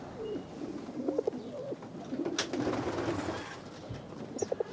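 Pigeons sit on an estate rooftop and give soft, low coos in short bursts over a light outdoor background, with a few wing flutters and small distant sounds.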